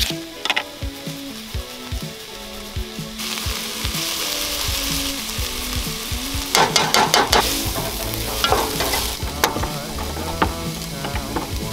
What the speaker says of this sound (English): now that we got a good sizzle on everything and seasoned it with some salt